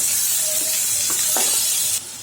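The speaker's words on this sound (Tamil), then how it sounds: "இதையும் நல்லா கலந்து வதக்கிடுங்க நல்லா வதங்கி வரணும்" Chopped tomatoes sautéing in a pan for an anchovy fish curry, a steady hiss of frying with a few soft stirring scrapes, before the sizzle suddenly drops lower near the end.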